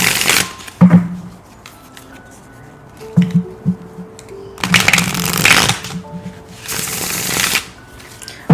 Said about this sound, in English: let's pull an oracle card here